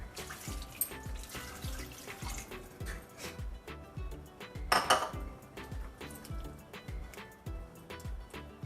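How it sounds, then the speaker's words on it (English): Water splashes and runs into a metal pressure cooker pot of Punjabi rajma amid clinking of cookware, with a brief louder gush midway and steady kitchen clatter throughout. "I'm gonna add some water"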